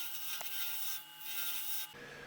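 A natural edge koa wood bowl being turned on a lathe, the tool cutting in stages with a steady, close scraping and rubbing hiss that briefly eases, then returns before a sudden drop near the end.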